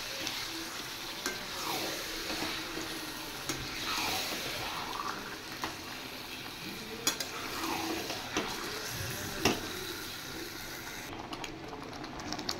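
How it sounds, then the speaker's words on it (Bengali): Chicken pieces fry with garlic and ginger in a pan, giving a continuous soft sizzle broken by periodic spatula scrapes and light clinks against the pan, close and fairly quiet, without speech. "এবার চিকেনটা দিয়ে আমি আরেকটু ফ্রাই করব।"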